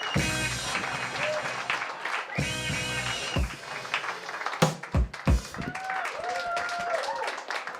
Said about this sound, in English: clap for Alvin Kuai